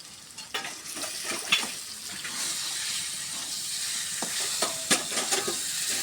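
Fish sizzles steadily as it fries in a pan, a continuous crackling hiss with occasional sharper pops and spatters rising above it, close and fairly loud, with no voices.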